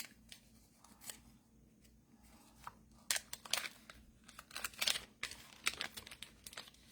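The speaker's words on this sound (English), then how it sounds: "I think these are the plastic bags that you put the shaker stuff inside" Plastic bags from a shaker card crafting kit are handled up close, giving irregular crinkling and rustling that grows busier and louder toward the end.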